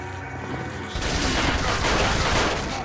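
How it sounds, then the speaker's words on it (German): A TMP submachine gun in Resident Evil 4 opens fire, a rapid sustained burst of dense automatic shots starting about a second in and continuing loudly to the end. "jetzt können wir auch ein bisschen wieder mit der TMP schießen"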